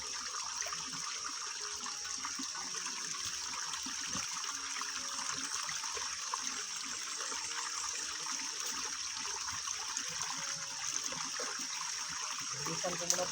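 Water rushing strongly from a source that was dry before, a steady continuous hiss and splash close by with a faint tonal hum underneath.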